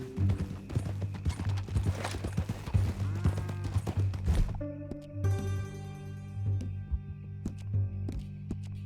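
Horse hooves clip-clop in Red Dead Redemption, a steady rhythmic trot, with other game sounds in the first half and a tonal music bed throughout.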